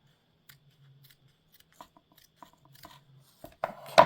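Scissors trim duct tape arrow fletching in a quiet room, giving a scatter of faint, sparse snips that grow into louder, closer cuts at the end.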